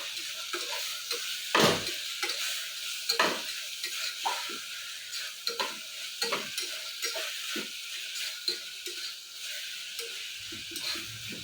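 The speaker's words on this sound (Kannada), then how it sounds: "ಇದನ್ನ ಇದ್ರ ಜೊತೆಗೆ ಫ್ರೈ ಮಾಡ್ಕೊತಾ ಇದ್ದೀನಿ ಚೆನ್ನಾಗಿ" Ginger and garlic sizzle in a pan while a spatula stirs and scrapes, giving repeated irregular scraping strokes over a steady frying hiss, close and moderately loud with no talk.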